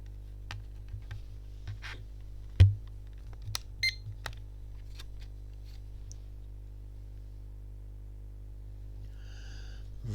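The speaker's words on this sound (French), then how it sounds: "Vous avez entendu un bip de confirmation." A short electronic confirmation beep from a toy drone after pairing with its remote control, heard faintly near the end after scattered clicks and taps over a quiet hum.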